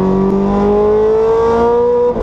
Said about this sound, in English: took me for a lap in a convertible Ferrari F430